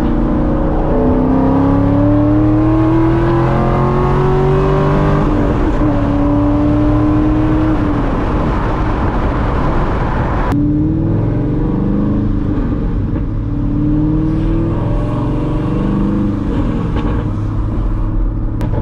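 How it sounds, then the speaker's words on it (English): A 500 HP C6 Corvette accelerates hard while sliding sideways onto a highway at about 50 mph, its loud engine revving up through rising pitches and then shifting back down, with a steady rumble of tires and road beneath it the whole time. "We're going 50, getting onto the highway, going sideways."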